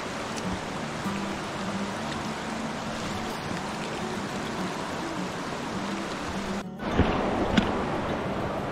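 A village river flows steadily in rural western Maharashtra, a constant broadband wash with a brief dip, then slightly louder rushing water nearby.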